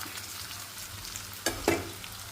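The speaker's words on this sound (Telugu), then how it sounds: "దీన్ని ఫస్ట్ ఇలా కలిపేసుకోవాలి మంచి కలిసే వరకు ఇలా కలిపేసుకోవాలి" Soaked flattened rice (atukulu) is stirred with fried onions in a pan, a faint soft sizzle under a couple of sharper spoon scrapes near the end.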